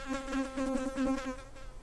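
A small fly buzzes close by at a disc golf tournament final, a steady whining drone with a slightly pulsing rhythm, faint and alone without any talk.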